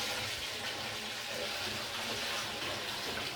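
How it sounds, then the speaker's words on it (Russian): Milk is poured into homemade moonshine to clean it, a steady, close, hissing gush of liquid with no break and no talk. "Видно вот молоко заливаем."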